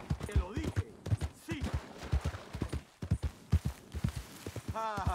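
Regular clip-clop of a horse's hooves walking in Red Dead Redemption 2, a steady series of sharp knocks running throughout, with someone talking over them and a horse whinny near the end.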